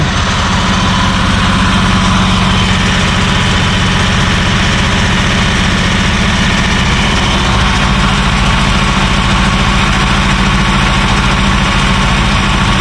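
A Datsun 280Z engine fitted with a four-barrel carburetor idles steadily, a loud, continuous low rumble with a slight vibrating throb that holds throughout, with no talking.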